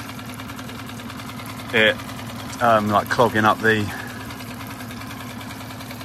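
A Tohatsu 6hp four-stroke outboard idles steadily with its fuel line pulled, running off the fuel left in the carburetor bowl. The even mechanical drone stays close throughout, and someone speaks briefly over it.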